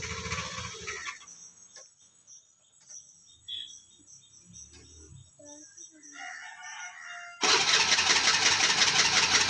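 A small engine is cranked again at a rural village site, with scattered clanks and insect and rooster sounds in a quiet stretch before the motor catches and roars loudly and steadily near the end.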